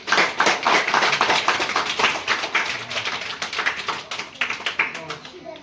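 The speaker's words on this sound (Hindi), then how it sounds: "बड़ी जोर से तालियों से के साथ इनका स्वागत करेंगे।" A crowd at a village Independence Day gathering claps loudly in welcome of the newly selected village head, dense, irregular applause that peaks at the start and tapers gradually, with voices faintly beneath.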